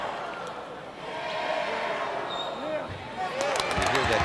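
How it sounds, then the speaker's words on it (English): A crowd at the 1986 Class A high school basketball final between Romulus and Detroit Southwestern raises a swelling air-ball cheer during a free throw, a broad roar of many voices that grows louder toward the end, with a commentator talking over it. "You hear that air ball cheer"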